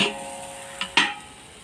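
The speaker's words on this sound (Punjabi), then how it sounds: "ਹਾਂਜੀ ਆਪਾਂ ਹੁਣ ਵਿੱਚ ਖੋਆ ਪਾ ਕੇ ਵਿੱਚ ਖੰਡ ਪਾ ਕੇ ਤੇ ਇਹਨੂੰ ਚੰਗੀ ਤਰ੍ਹਾਂ ਮਿਕਸ ਕਰ ਲਾਂਗੇ" Roasted carrots for gajar pak being stirred in a pan with khoa and sugar, giving a soft continuous sizzle broken by two short scraping strokes of the spoon, close up.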